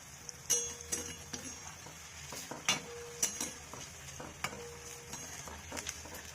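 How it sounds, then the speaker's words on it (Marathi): Cauliflower manchurian pieces frying in oil over a low flame, giving a steady faint sizzle broken by a few sharp clinks and scrapes of a spoon stirring against the pan. "असे लाल तळू द्यायचे, छान कच्चे राहत नाहीत मध्ये"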